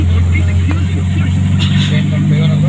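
Tricycle ride through city traffic, a steady close low engine drone with passing vehicle noise around it, and a voice talking over the ride.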